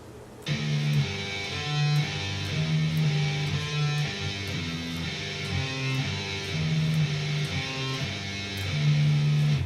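An electric guitar plays the lower-part riff of a theme, a repeating, minimalist riff of sustained tones in a steady groove, clean and fairly loud with no voices.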